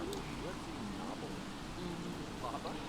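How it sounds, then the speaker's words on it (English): Steady rain falls across a park in The Sims 3, a continuous soft hiss filling the scene, with gliding tonal voice-like sounds drifting over it. "Out in the rain in the middle of the park."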